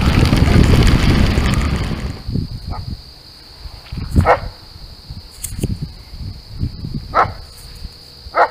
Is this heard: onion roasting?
no